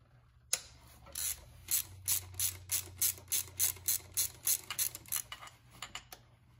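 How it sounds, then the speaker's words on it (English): Ratchet undoing E10 external torx bolts on the fuel filter clamp bracket of a Mercedes ML 320 CDI, a close, steady run of about a dozen quick clicking pawl strokes with no talking. "E10 external torx bolts here that hold the clamp bracket and the fuel filter together. So I'm just going to undo those."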